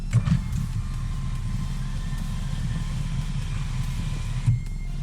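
Electric sunroof motor on a BMW F25 X3 xDrive35i sliding open, a steady soft whirring hum inside the cabin with a faint click at the start and a small thump at the end as it stops.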